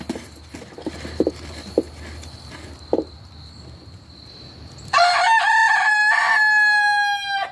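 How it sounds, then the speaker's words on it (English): A rooster crows loudly and close by in one long, stretched call, preceded by a few scattered knocks and taps against a quiet background. "Rooster. That's totally uncalled for, bro."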